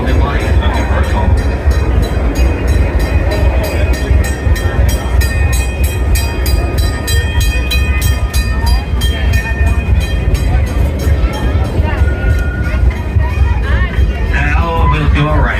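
Steam locomotive train ride on the Six Flags Texas Railroad, a steady loud rumble of rolling cars with clanking and hissing throughout, and a voice talking over the noise.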